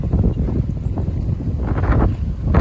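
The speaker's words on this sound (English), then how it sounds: "And there is the wind." Gusting wind arriving with an Arctic weather front, blustery rushing and buffeting across the microphone in uneven surges that swell louder toward the end, with no voices.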